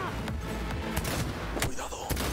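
Gunfire during a very hard firefight in Cyberpunk 2077, with several sharp shots cracking out in an irregular burst over a constant background of game noise.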